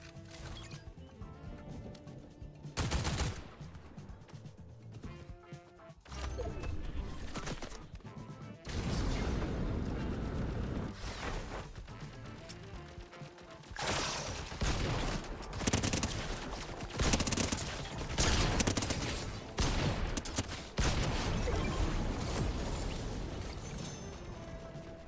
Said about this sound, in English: Well, that shotgun sucks.